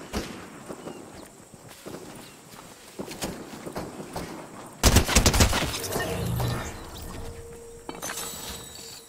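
Gunfire crackles in Fortnite, with scattered shots early on and then a loud, dense volley that goes on for a couple of seconds, heard from close by.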